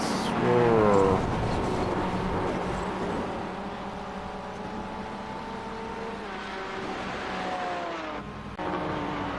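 MX-5 race cars in iRacing pass at speed at Mount Panorama Circuit. A loud engine note is followed by a long fading rush of several cars, with tire noise and a commentator talking over it.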